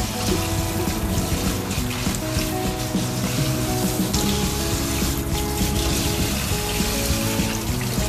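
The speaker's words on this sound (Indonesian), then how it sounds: "seterusnya kita akan cuci dengan air" Tap water runs steadily and loudly over an air fryer basket as it is rinsed, a continuous splashing gush with no voices.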